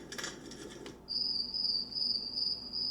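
Steady electronic-sounding cricket chirps from a portable white noise machine pulse in a continuous high trill, with soft rustling before it starts.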